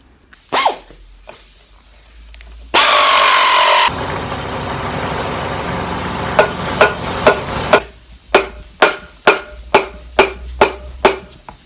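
A ring being hammered off a Foden gearbox of a Cummins-powered 1973 Foden S80: a loud burst of noise and a low machine hum give way to a regular series of sharp metallic hammer blows, about a dozen, close up.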